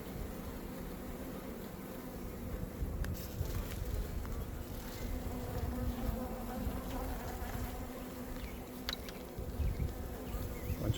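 Dense, steady buzzing of many honey bees swarming around an open beehive during hive maintenance, close and continuous with no talk.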